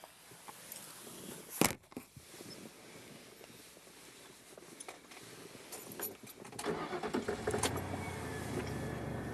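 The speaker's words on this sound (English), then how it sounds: "Oh, what a beautiful sound when that car starts up." Car door thuds and keys rattle close by, then the engine cranks and catches, settling into a steady idle that continues to the end.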